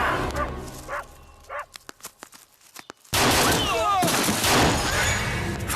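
Burst of gunfire in a tense Hindi action film scene, a loud sustained volley of shots erupting after a few sharp isolated cracks and quieter dialogue, with shouting mixed into the chaos.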